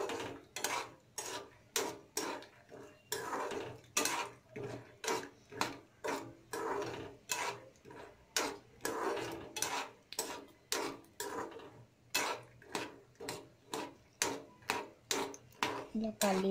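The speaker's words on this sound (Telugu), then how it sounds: "పల్లీలు వేసి గ్యాస్ సిమ్లోనే పెట్టుకొని వేయించుకోండి" Peanuts dry-roasting in a pan over a low gas flame, tossed in a steady rhythm so they rattle and scrape against the metal in regular bursts, close and fairly quiet, without talk.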